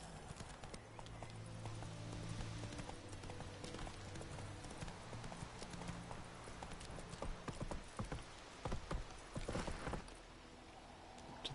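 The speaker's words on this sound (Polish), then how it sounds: "O, koń się nagle pojawił, ni stąd, ni zowąd." Horse hooves clip-clopping steadily in a video game, a running rhythm of hoof strikes over game ambience, with a few sharper knocks and clatters near the end.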